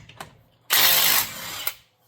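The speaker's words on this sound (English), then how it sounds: "You guys think this store brand impact here will take those lugs loose?" Master Force store-brand impact wrench loosening truck lug nuts: a sudden loud rattling burst of hammering lasting about a second, easing to a lower whir before stopping, close up and without talk.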